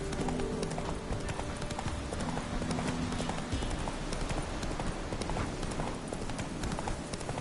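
Hooves of Roach, the horse in The Witcher 3 video game, clatter in a fast, steady galloping rhythm, loud and close over thick game ambience and music.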